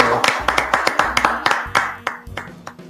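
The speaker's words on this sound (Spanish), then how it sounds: "Se une a esta conversación Pamela Pizarro, aplauso." Close, loud hand claps in a steady rhythm welcome a guest onto a studio talk show, each clap crisp and evenly spaced before gradually thinning out.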